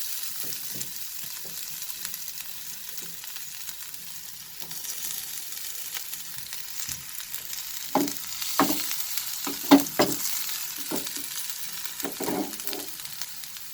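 Chopped ginger and garlic fry in hot oil in a karhai, a soft continuous sizzle broken by several louder stirring scrapes and spatters toward the middle and end.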